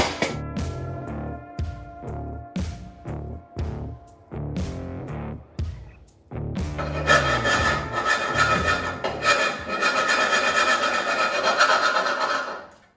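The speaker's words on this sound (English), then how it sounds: "I'm really good at filing" A hand file works on a 1965 Ford Mustang body swap, with repeated rasping strokes that become denser, louder and more continuous in the second half, close and with no talk.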